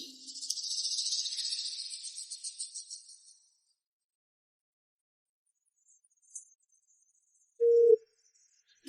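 A telephone busy signal sounds as a short burst of rapid, pulsing high tones at the start, followed by long silence, a faint blip and a brief flat tone near the end.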